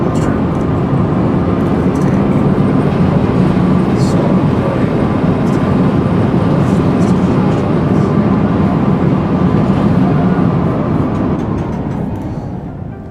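A passing train runs on its rails with a loud, steady rumble and roar for about twelve seconds, then fades slightly at the end, with no talking.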